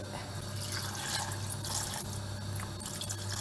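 Steady running water pours continuously into a small cooking pot, a close, even gushing stream with no voices.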